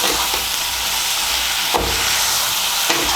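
Turmeric and chili powder are stirred into a sizzling pan of radish greens with bori lentil dumplings. The frying crackles steadily throughout, and a few louder scrapes of the spoon come through with no talk.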